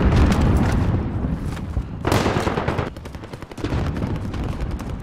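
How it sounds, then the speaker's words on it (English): A rocket launches in the Call of Duty: Modern Warfare video game amid loud, dense bursts of booming, crackling gunfire and explosive blasts that surge and fade over a few seconds. "Launching rocket."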